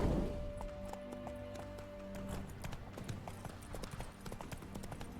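Roach, Geralt's horse in The Witcher 3, trots with steady clip-clop hoofbeats close by, layered over ambient game music and environmental sound, with no talking.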